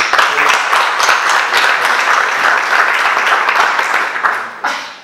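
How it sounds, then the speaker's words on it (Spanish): An audience at a poetry forum in the Real Casino de Murcia applauds in a sustained burst of dense clapping that tapers off at the end, with a voice briefly audible. "Así que un aplauso."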